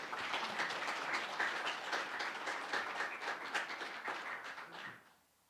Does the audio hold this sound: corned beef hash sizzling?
no